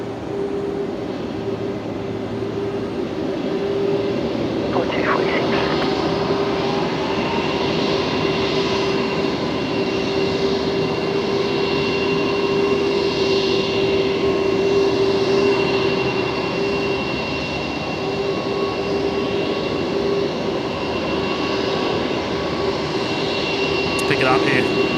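A Jetstar jet airliner lines up on runway 01 right at Brisbane Airport for a departure to Auckland on New Year's Eve night, a steady, even broadband roar that holds unbroken and fairly loud from start to finish.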